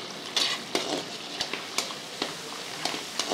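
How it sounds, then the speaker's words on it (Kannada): Curry leaves crackle and sizzle in about three spoons of hot oil for a restaurant-style chicken fry, with steady frying noise and repeated bright pops and utensil scrapes throughout. "ಈಗ 3 ಸ್ಪೂನು ಆಯಿಲ್, ಇದು ಇವಾಗ ಕಾಯ್ತಾ ಇರುತ್ತೆ ಎಣ್ಣೆ, ಇದಕ್ಕೆ ಕರಿಬೇವು"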